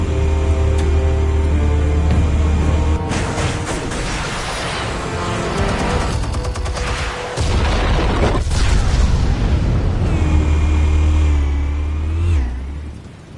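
Explosive charges detonating in a Batman game: heavy booming bursts over a deep, engine-like rumble, loud and close, with a lull between blasts before the roar fades out.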